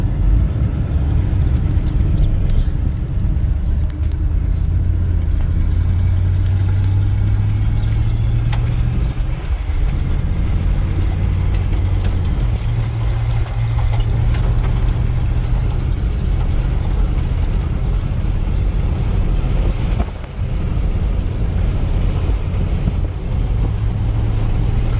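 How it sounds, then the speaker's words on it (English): A Dodge Power Ram 150 pickup truck, left sitting for five years, drives steadily with a low, continuous engine drone, occasional shifts in pitch as it accelerates, and wind rumble around the cab. "We'll go take it for a drive around the block,"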